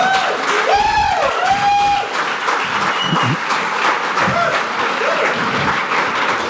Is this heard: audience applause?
yes